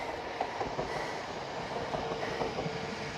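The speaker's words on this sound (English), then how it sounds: "Oh, I can hear the train." A Wellington commuter train rumbles past at a distance on the Kāpiti Coast, New Zealand, a low steady roar with faint rhythmic clacks of wheels on rails.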